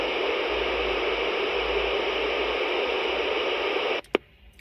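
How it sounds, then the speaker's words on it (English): Steady loud white-noise static hisses from an in-car CB radio for about four seconds, then cuts off abruptly with a click and a short burst before near silence. "I'll turn that down for people who don't like the sound of white noise."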